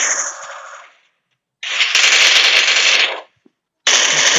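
Rapid gunfire in the Free Fire mobile shooter during a 2 versus 2 custom match: three loud, close bursts of fast automatic shots, separated by brief silent gaps.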